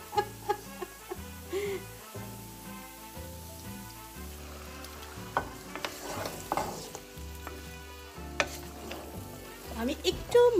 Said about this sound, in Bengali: আমি একটু মাংসটাকে পেঁয়াজের সাথে ভালো করে মিশিয়ে আমি একটু কষিয়ে নিব